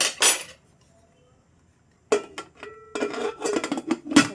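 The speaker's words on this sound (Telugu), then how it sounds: "మూత పెట్టేసుకుని" Metal clatters and clinks as a lid is set onto a pressure cooker, a short knock first, then a longer rattling run of handling after a pause.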